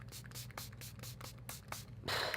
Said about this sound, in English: I'm just going to spray my face with my Pixie Glow Mist